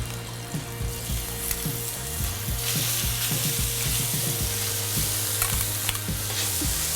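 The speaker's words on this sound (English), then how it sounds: "Next, I'm going to add some chorizo sausage." Chorizo sausage sizzles in a paella pan, a dense continuous crackle with an underlying hum and frequent light clicks and pops, close and fairly loud.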